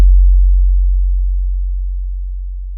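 A deep, pure sub-bass tone sweeps slowly downward in pitch, smooth and sustained, with nothing else around it.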